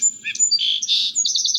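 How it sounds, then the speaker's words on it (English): Song sparrow song, a clear, close run of high chirps and trills ending in a quick repeated series of notes, heard alone with no talking. "Number 4 is the song sparrow."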